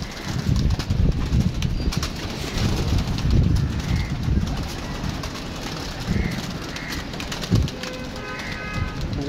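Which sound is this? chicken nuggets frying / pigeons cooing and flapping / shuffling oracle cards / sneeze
pigeons cooing and flapping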